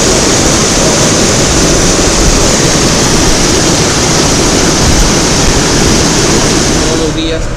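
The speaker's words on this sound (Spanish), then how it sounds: "Lavado de uno de los filtros del agua." Water rushes hard and continuously while a water filter is washed, a loud, broad roar like a strong spray or torrent that holds steady from start to end.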